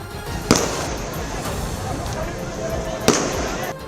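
Two sharp gunshots crack out about two and a half seconds apart during a street clash between stone-throwers and police, over a noisy background of voices.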